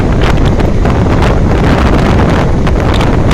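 Strong windstorm gusts roar steadily and loudly on a road, buffeting the microphone with constant rumbling gusts and no voices.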